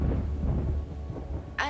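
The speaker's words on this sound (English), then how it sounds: "When it rains like this" Low rumbling thunder rolls through steady rain during a storm at night, a deep continuous grumble that ends in a brief higher sound.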